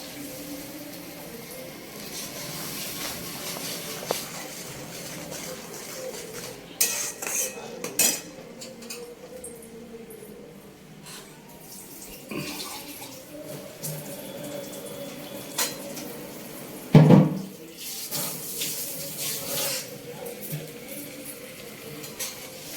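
Spoon clatter and scraping sound in a pan as curd paste is added and stirred, quiet and intermittent, with a louder clink of cookware partway through and no speech.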